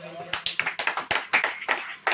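A few people in a church congregation clap in a loose, roughly steady rhythm, sharp distinct claps close by, with someone talking among them.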